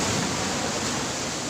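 Large sea waves crash and wash around a rocky fishing spot, a loud continuous roar of surf with no break and no voices.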